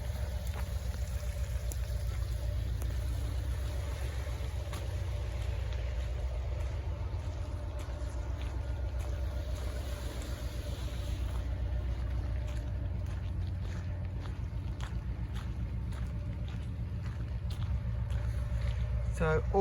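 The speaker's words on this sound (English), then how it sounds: "You've got the hum of Pendennis shipyard here" A steady low industrial hum drifts across the water from Pendennis shipyard, a constant distant drone under outdoor wind noise along a coastal footpath, with faint ticks and rustles nearer by.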